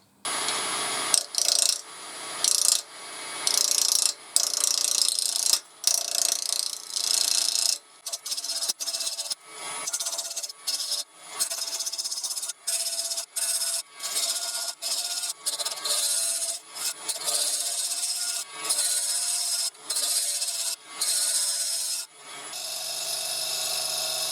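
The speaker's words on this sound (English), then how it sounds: "let's get over to the lathe and get back to do some turning" Apricot wood being turned on a lathe, a tool scraping and rasping against the spinning blank in bursts of cutting separated by short pauses, close and steady with no voices.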